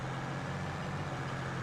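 A tractor engine in Farming Simulator 22 running at a steady 25 mph top speed while stone collecting, a constant low droning hum with no change in pitch or load.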